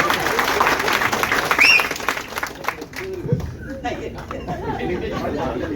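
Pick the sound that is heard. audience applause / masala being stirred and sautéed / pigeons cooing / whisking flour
audience applause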